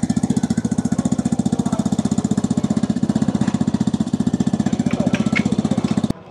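Vespa scooter engine fitted with a Remus exhaust and a CVT kit, idling loud and close with a steady, even low pulsing throb for about six seconds before cutting off, no voices.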